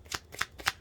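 Yu-Gi-Oh trading cards being shuffled by hand, three quick riffling bursts at close range.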